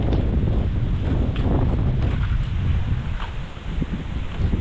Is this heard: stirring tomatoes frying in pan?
no